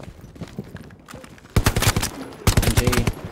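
Bursts of WW2 machine gun fire in Hell Let Loose, a sharp loud volley followed by a second rapid string of shots after quieter scattered reports.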